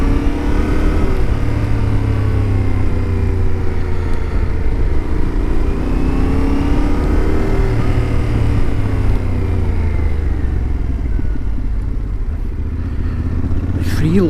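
A car drives along a forest road on the Dukes Pass, its steady engine and road rumble carrying on close and continuous as it slows to pull into a small car park, with no talk over it.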